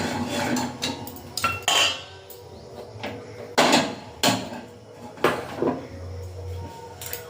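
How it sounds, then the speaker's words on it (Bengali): A metal wok is set down onto a home gas stove amid kitchen clatter for making raw mango pickle: several sharp, close clanks and knocks of metal cookware, spaced irregularly, with brief scraping between them. "এবারে কড়াইটা বসে গ্যাসটা জেলে নেব"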